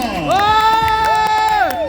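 A crowd cheers and claps for the third-place primary school boys' team at a 3x3 basketball tournament. The scattered claps and cheers sit beneath a loud, drawn-out amplified voice.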